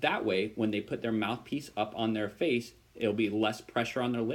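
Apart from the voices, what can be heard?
None of the usual background noises is heard.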